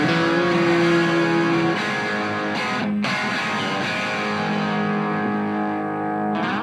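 An electric guitar plays through a Plexi amp on the top input, its distorted chords ringing loud and sustained, with a brief cut before it carries on.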